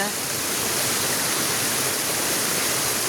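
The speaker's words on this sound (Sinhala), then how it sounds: "දොළ ළඟ" Steady rushing of a flowing stream, a dense continuous wash of water noise filling the whole stretch without pause.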